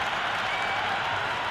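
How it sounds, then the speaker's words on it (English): A stadium crowd roars and applauds after a six in the Cricket 26 video game's IPL match. The cheering is a continuous wash of noise, even and unbroken for the whole moment. "There's a buzz, a real buzz coming from the stands."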